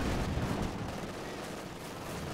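Machine gun burst in Company of Heroes 2, dense rattling gunfire that is loudest at the start and then continues as a steady wash of distant battle noise.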